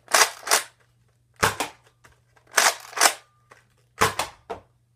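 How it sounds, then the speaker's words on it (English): A Nerf Mega Magnus blaster fires darts in four close, sharp mechanical bursts, each a quick double pop of plunger and air, evenly spaced and alone with no talking. "So, yeah, the firing on this gun is not too bad."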